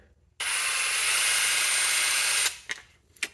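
A RIDGID R862312 cordless impact driver runs freely on its variable speed trigger, a close, steady high motor whine for about two seconds, followed by a few short clicks and handling knocks.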